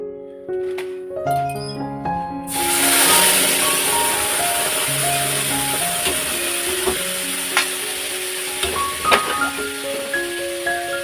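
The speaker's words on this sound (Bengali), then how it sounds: "শুটকি মাছটা ভালো করে ভেজে নিয়ে" Dried fish fries in a pan in a home kitchen with a steady, fairly loud sizzle starting after a couple of seconds. Occasional clinks of stirring are heard, and a melodic tune plays in the background throughout.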